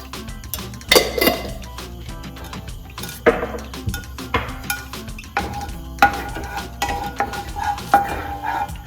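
Mustard seeds splutter in coconut oil heated on a high flame, a close series of sharp, irregular pops and crackles mixed with metallic clinks from a pan and utensil.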